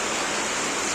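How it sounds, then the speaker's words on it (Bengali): Heavy downpour on a street, a dense, loud, unbroken hiss of falling water close by. "হেভি জোর বৃষ্টি হচ্ছে"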